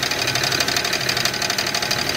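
Car engine with a rod knock running steadily, a dense continuous mechanical clatter with fast repetitive ticking throughout, loud and close with no talk.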